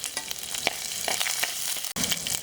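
Onions, ginger, garlic and tomato frying together in a pan, a close, steady sizzle broken by scraping stirs and soft clicks, with a brief dropout near the end and no talking.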